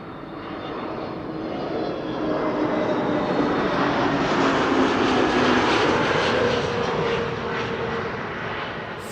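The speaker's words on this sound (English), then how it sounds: "a KLM A321neo flight 1602 arriving from Rome," A KLM Airbus A321neo jet arriving from Rome touches down at Amsterdam Schiphol, its broad engine roar swelling steadily and holding loud and continuous before easing slightly, with no voices.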